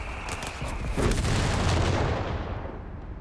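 A mortar half-track barrage in the strategy game Company of Heroes 3 lands as a heavy, rumbling boom that swells and then slowly fades, loud and close.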